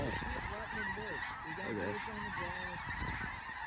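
A large flock of snow geese over a South Dakota hunting field honks loudly and continuously in a dense, overlapping chorus; one person says a single word partway through.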